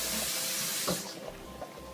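Pasta water from cooked fettuccine pours into a colander in a home kitchen, a steady close rush and splash of water lasting a couple of seconds.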